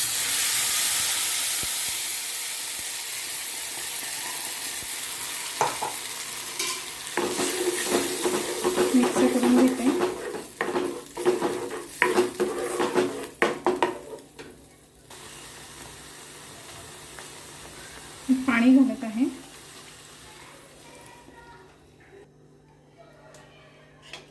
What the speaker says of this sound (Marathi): लसूण आपलं गोल्डन ब्राऊन झालेलं आहे आता यामध्ये घालत आहे पेस्ट